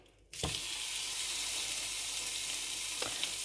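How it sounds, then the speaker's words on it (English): Beef cheeks hit a hot frying pan with a sudden onset, then a loud, steady sizzle and spit of searing meat that runs on unbroken and close up, with a brief stir or clink partway through. "So we're just heating up the pan and then we just sear the meat."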